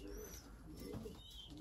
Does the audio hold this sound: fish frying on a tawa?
no